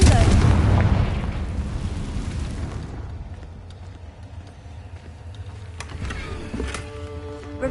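A Confringo fire-blast spell explodes in Hogwarts Legacy, a loud booming blast that rolls off into a fading rumble, followed by quieter game sounds.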